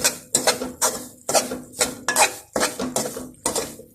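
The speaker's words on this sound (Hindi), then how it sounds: "सूजी में भून रही हूँ" Semolina roasts in a pan for halwa, with a utensil scraping and clinking against the metal in a quick, regular rhythm of about a dozen close strokes and no talking.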